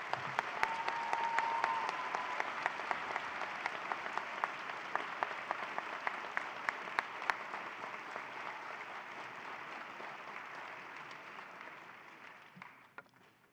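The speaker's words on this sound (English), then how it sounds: "let's give this group a really great round of applause" Audience applauding a group of PhD graduates at an autumn university convocation, a dense sustained round of clapping from a large hall crowd that holds steady for most of its length before tapering off near the end.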